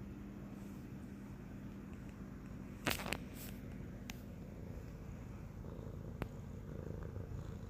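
A cat purrs steadily and softly for the whole stretch, a low continuous rumble close by, with a couple of brief knocks partway through and no talk.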